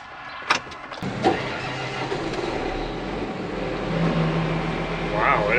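A new Case IH 715 Quadtrac tractor engine cranks with a few sharp clunks, then catches into a steady low diesel rumble that grows heavier, with a voice talking faintly nearby.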